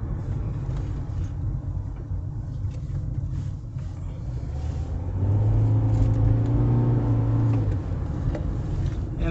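A Toyota Prius drives steadily with a low road rumble after a front brake pad and rotor change, the engine tone rising into a smooth hum partway through; no voices.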